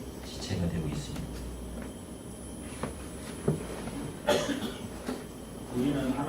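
A single cough from a congregant during a church service, fairly close, breaking out of an otherwise quiet room with some shuffling and movement around it.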